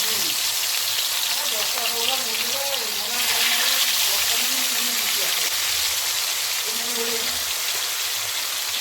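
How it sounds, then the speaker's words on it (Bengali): Fish sizzling steadily in hot oil in a home kitchen, a dense continuous crackle and hiss with a voice speaking over it throughout. "এবারে একটা করে মাছ আমি দিয়ে দিব। মাছটাকে ফ্রাই করতে হবে।"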